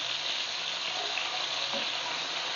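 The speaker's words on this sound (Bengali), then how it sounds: "মাছটা আমার ভাজা হয়ে গেছে, এবার আমি নামিয়ে নেব।" Koi fish (climbing perch) fry in hot oil, giving a steady, even hiss of sizzling that stays constant throughout with no voices.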